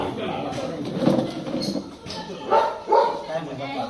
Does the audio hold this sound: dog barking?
yes